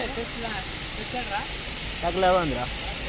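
Heavy monsoon rain at Charmadi Ghat pours as a dense, steady hiss, with a person talking over it in short bursts.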